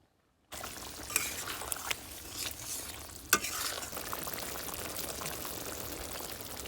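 Eggplant drops into a pan with a whisked yogurt mixture and sizzles in a steady close hiss, broken by a few sharp clatters of stirring against the pan.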